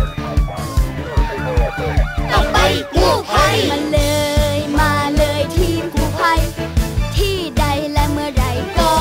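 A police car siren wails in a children's vehicle song, with rising and falling siren tones over a bouncy musical backing with sung vocals, loud and up front.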